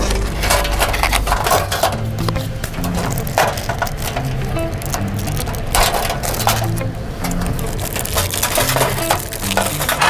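Packaging from a Coleman Cascade 3-in-1 camp stove is pulled apart by hand, with continuous close crinkling, crunching and rustling plus sharp cracks and snaps, no speech.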